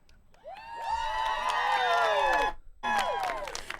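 A crowd cheering and whooping as people rise to their feet at a comedy show, with loud overlapping high-pitched yells that swell, break off briefly, then surge again.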